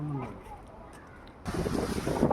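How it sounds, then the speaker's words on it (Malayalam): Cold sea wind blows at Bekal Fort in Kasaragod, a rough gusty rumble buffeting the microphone that surges in loudly after a quieter stretch with a faint voice. "മനോഹരമായ കടല് കാണാം നല്ല തണുപ്പ് കാറ്റിങ്ങനെ അടിച്ചു വീശുന്നത്"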